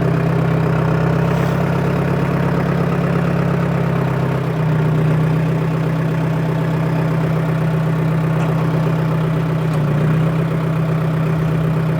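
A vintage Cummins diesel tow truck engine idles steadily and loudly up close, with a deep constant drone and a faint shift in pitch partway through, and no voices.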